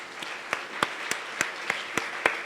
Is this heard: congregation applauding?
yes